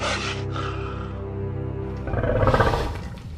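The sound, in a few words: wolf growling softly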